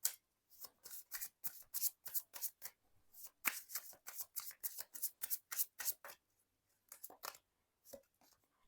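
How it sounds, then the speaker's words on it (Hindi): Tarot cards being shuffled and drawn in a run of quick, crisp riffling bursts with short pauses between them, close up and fairly quiet, with no talking over them. "इसके लिए कार्ड निकालती हूँ मैं।"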